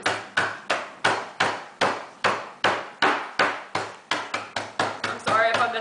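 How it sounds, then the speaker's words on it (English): A hammer crushes Oreo cookies on a table, striking about seventeen times in a steady rhythm of sharp, loud thuds that quicken toward the end, close by and alone. "And then you crush the Oreos up into little pieces."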